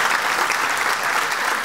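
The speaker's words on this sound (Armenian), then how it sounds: "Եկեք բոլորս ծափարենք մեր շրջանավարտներին" Steady applause from a crowd clapping for graduates at a ceremony, dense and continuous throughout with no gaps.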